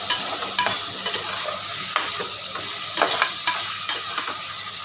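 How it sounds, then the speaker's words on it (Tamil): Green chillies and tomatoes sautéing in a pan for kichadi, a steady close sizzle broken by repeated scraping strokes of a spatula stirring the mixture. "இது எல்லாத்தையும் சேர்த்து நல்லா வதக்கி எடுத்துக்கலாம்."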